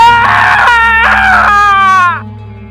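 A boy's shrill scream in a Korean radio drama, loud and sustained with a wavering pitch that rises through two breaths before cutting off abruptly, followed by a low hum.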